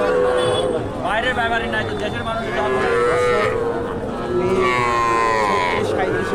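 Several young Sahiwal bulls moo loudly and repeatedly close by at a cattle market in Naogaon, long drawn-out calls overlapping with a busy background of people talking.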